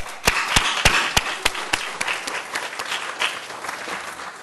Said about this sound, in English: with a warm round of applause, just thank the three finalists for making it to this stage